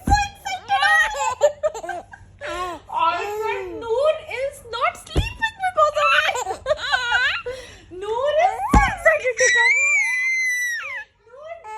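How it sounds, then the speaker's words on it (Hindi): A young child screams and shrieks in high, piercing bursts mixed with giggles and laughter. The sound is loud and close, with other voices occasionally underneath. "वो चिल्ला रही है"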